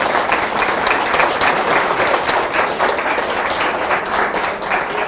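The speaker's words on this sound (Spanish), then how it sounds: "Queremos agradecer con un fuerte aplauso al doctor Álvaro López." Loud, dense audience applause at a political party training conference, sustained steady clapping from many hands filling the room without pause.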